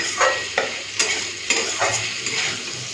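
Potatoes and a fish head sizzle steadily in hot oil in a home kitchen, with a utensil stirring and scraping the pan in regular strokes about twice a second, close by and without talk.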